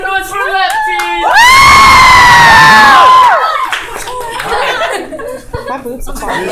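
A loud crowd at a Kendall and Logan Q&A event cheers, screams and shouts for the lefties group, swelling into a sustained roar, then settling into scattered laughter and chatter.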